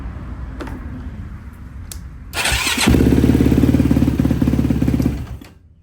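A Yamaha YFZ450 ATV that sat for years cranks with a few ticks, then its engine fires and settles into a loud, close, rapid pulsing idle before cutting off at the end.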